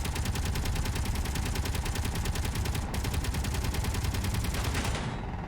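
Rapid, continuous automatic gunfire from a vehicle turret in a video game, loud and sustained for the whole stretch with a steady rattling rhythm and a brief dip near the middle.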